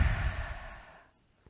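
Slow deep exhale during a yoga stretch for runners: one close, breathy sigh that fades out after about a second, leaving near silence.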